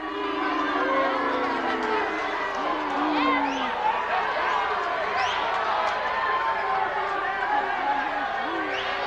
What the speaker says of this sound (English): Crowd didn't like that call.